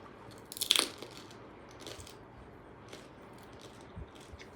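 Crisp dahi puri (doi fuchka) being bitten in an Indian street food eating challenge, with one sharp close crunch near the start and fainter crunching and chewing after it, all fairly quiet.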